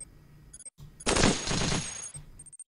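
A minigun fires in the video game Cogmind as a dense, continuous mechanical roar lasting about a second, set between softer electronic game tones and clicks, loud and close with no voices.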